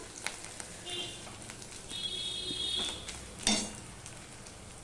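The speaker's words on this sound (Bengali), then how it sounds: "এবার পেঁয়াজ রসুনটা ভাজা হয়ে গেলে আমি মাছের ডিমটা দিয়ে দিলাম" Fish roe dropped into a pan of fried onion and garlic sets off a sharp, crackling sizzle, with hiss and a few spatters rising over a steady low background of frying.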